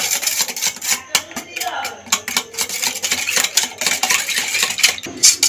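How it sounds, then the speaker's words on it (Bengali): A spoon clinks rapidly against a bowl while beating eggs with ground pepper and salt, a close, busy rattle of metal on dish with brief pauses. "চামচ দিয়ে ভালো করে ডিমটাকে ফাটিয়ে নিয়েছি"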